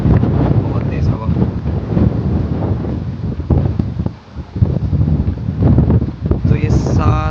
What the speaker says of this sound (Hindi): बहुत तेज़ हवा।